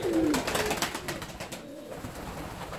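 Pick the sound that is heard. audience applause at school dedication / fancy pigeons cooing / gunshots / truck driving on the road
fancy pigeons cooing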